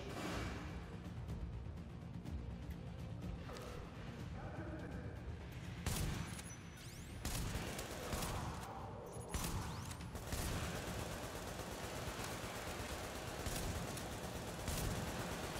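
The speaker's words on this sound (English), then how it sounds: "I think the machine's shooting at him now" Rapid automatic gunfire from a hostile machine in The Division video game, sustained bursts with occasional booms and mechanical whooshes layered throughout, loud and dense across the whole stretch.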